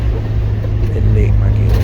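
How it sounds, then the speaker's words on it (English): A Morris Minor's engine hums at a steady, loud drone from inside the moving car on a hot road trip through Italy, with a deep, even tone throughout. "just listen to the sing of the engine"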